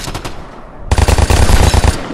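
Rapid automatic gunfire in the online shooter Vigor: a quiet stretch, then a loud, close burst of repeated shots firing in a steady rhythm for over a second.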